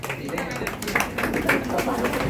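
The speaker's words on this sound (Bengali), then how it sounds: "একটু হাতের তালিটা একটু জোরে হবে প্লিজ।" A crowd gives dense, steady applause at a home-chef cooking competition in Kolkata. The clapping continues throughout, as a fairly loud wash of overlapping claps.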